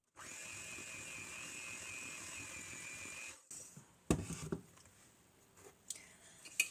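An electric mixer blends cake batter with salt, baking soda and baking powder for a pineapple birthday cake, giving a steady motor whir for about three seconds that then cuts off, followed by a few clattering handling knocks.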